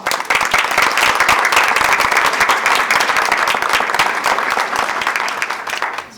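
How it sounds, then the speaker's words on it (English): Sustained, dense applause from an audience at a school board of education meeting honoring a student, steady and loud throughout before tapering slightly at the end. "One more round of applause."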